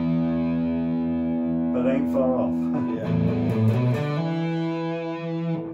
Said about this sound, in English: So this is it's a distortion pedal, so it's clearly not an overdrive pedal.